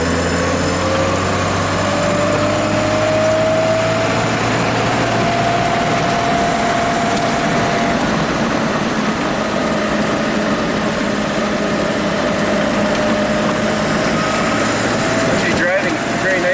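A 1967 Triumph GT6 engine drones steadily while driving in third gear, a loud continuous hum with a slowly rising whine and road rumble beneath, plus a brief clunk near the end.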